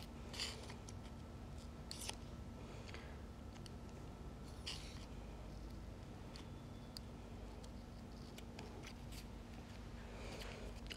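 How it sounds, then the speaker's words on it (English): Scissors snip through a sandpaper emery board trimmed around a curve of washi tape, giving a series of scattered, close, crisp rasping cuts at an irregular pace over a low background hum. "Great thing about cutting sandpaper is it sharpens your scissors up as you do so."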